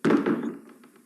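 Pounding on a door as a radio play sound effect: a heavy, close thunk that rings out and fades, followed by faint lighter knocks trailing off.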